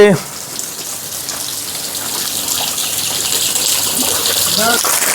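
Water gushes steadily from a pipe to bathe a cow, a broad continuous hiss and splash that swells slightly over time, with a brief voice at the start.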